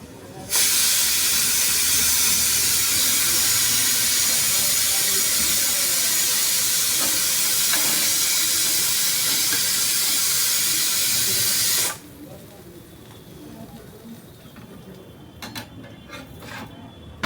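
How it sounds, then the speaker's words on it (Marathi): Cheese paratha crisping on a hot griddle makes a loud, continuous hiss that runs for about eleven seconds, then cuts off abruptly, leaving only a faint background. "पराठा हा खरपूस भाजून घ्यायचा आहे."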